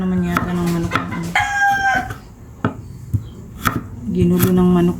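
A native rooster crows in the background of a chicken coop where heritage chickens are kept, with harmonic calls rising and falling over clucks and sharp chopping knocks, fairly loud and near.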